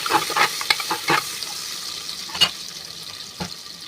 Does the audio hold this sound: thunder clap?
no